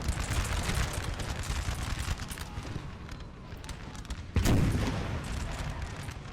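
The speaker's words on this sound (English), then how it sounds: "Artillery still firing." Napoleonic-era artillery in Napoleon: Total War, heard as a continuous distant rumble of cannon fire and musketry across a large battle, with one louder nearby boom late on.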